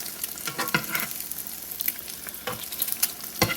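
Melted real butter sizzling in a pan on medium-low heat for French toast, a close, steady crackling hiss with scattered sharp pops and spatters, no voices.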